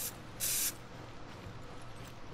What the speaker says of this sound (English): sounds like someone had spray paint on them